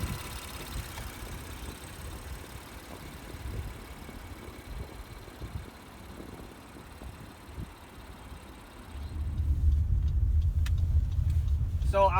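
A 2017 Honda Pilot with a direct-injection engine runs at a low, steady rumble, the engine note swelling louder near the end as the car sets off on a drive.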